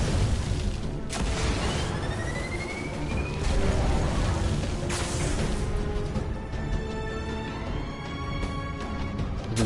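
A charged weapon in the Destiny video game House of Wolves sets off a loud booming explosion with a long rumbling, crackling tail, followed by more bursts of blasts and game effects that stay dense and loud throughout.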